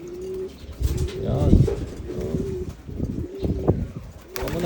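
Homing pigeons cooing close by during free flight training, with soft low coos and fluttering mixed with someone talking over them and calling out to the birds.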